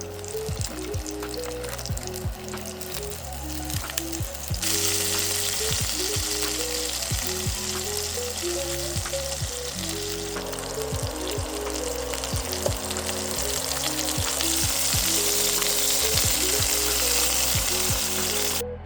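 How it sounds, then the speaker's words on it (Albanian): Sausages sizzle and fry steadily in olive oil in a pan for a stuffed cheese baguette recipe, a loud continuous crackle with intermittent utensil taps and no talking. "i vëmë salçiqet në tigan që t'i skuqim"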